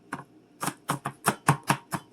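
A knife chops beef patties into dice on a cutting board, with eight sharp, evenly spaced strikes close up and nothing else heard between them.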